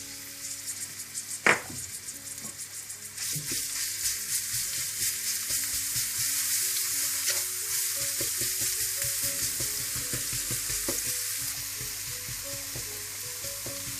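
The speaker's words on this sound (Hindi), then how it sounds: "सबसे पहले आप तेल गरम कर लें। इसमें आप कुटा हुआ लहसुन डाल दें।" Crushed garlic goes into hot oil with a single thump, then a bright, continuous sizzle builds and holds close up before easing toward the end; no one speaks.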